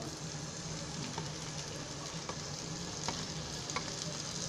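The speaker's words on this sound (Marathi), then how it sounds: "आता मी त्याच्यामध्ये जरासा गॅस वाढवते आणि त्याच्यामध्ये हे पहिलं टोमॅटो टाकते." Tomatoes hit a frying potato bhaji mixture in a pan over raised heat, giving a steady crackling sizzle with occasional stirring scrapes and small pops throughout.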